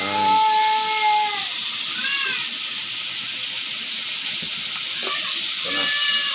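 Food sizzles steadily in a hot pan while squash (kalabasa) is sautéed, a continuous bright hiss with several cat meows rising over it near the start and end.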